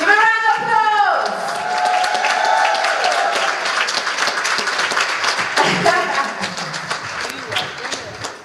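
After a brief voice at the start, a conference audience breaks into sustained applause, clapping steadily with scattered cheers beneath it.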